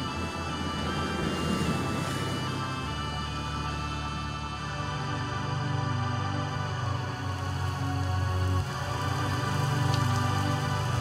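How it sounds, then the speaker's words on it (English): Steady rain falls in a sci-fi setting, a broad continuous hiss of downpour with a low rumbling bed beneath it, holding at an even level throughout with no voices. "Rain. It's beautiful. Millions of gallons of it."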